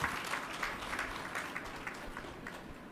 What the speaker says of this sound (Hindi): आप एक बार तालियों से उनका सम्मान करें